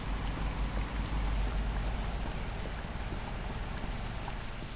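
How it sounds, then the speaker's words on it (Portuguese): Heavy rain in the truck-driving video game Universal Truck Simulator, a dense, steady downpour hiss pattering on surfaces, loud and continuous throughout with a low rumble underneath and no talking. "Vamos embora, que tá chovendo demais aqui."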